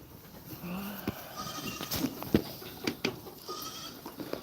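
A goat on a farm with a herd of more than sixty goats gives a few short bleats amid scattered animal noises and movement, fairly close but not loud.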